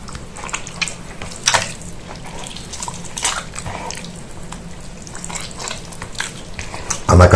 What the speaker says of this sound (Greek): ανακατεύουμε λοιπόν πάρα πολύ καλά για να διαλύσουμε το προζύμι μέσα στο νερό